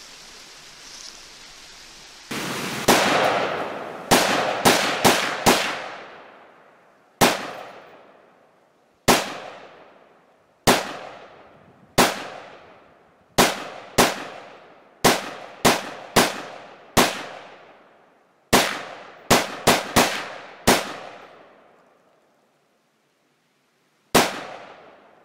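Rifle shots fired at an iMac computer, a series of sharp, loud cracks spaced irregularly with brief decaying echoes between them, about twenty blasts over the span, no talk.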